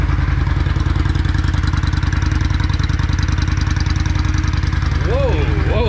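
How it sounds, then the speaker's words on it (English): Yamaha Virago 535 motorcycle engine running close and loud with a steady, throbbing pulse, ending in a couple of quick throttle blips that rise and fall in pitch. "this bike sounds like it's running way better. Throttle response is crisp."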